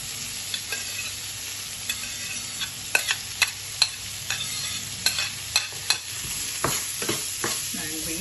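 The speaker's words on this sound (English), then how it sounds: "Fry that." Garlic and ginger frying in a pan for sweet and sour chicken, a steady close sizzle punctuated by a series of sharp spatula knocks and scrapes.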